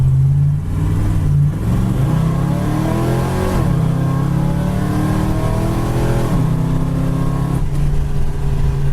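A 1969 Plymouth Road Runner's V8 engine roars loudly and close as it revs and accelerates, its pitch climbing in repeated surges through several gear changes over about nine seconds, with no talk.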